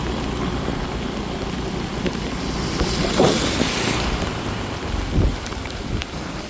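Heavy rain pours down during a motorbike trip on the route to Kodaikanal via Periyakulam and Adukkam, a dense steady hiss of rain and wind with a couple of low, rumbling swells and no voices.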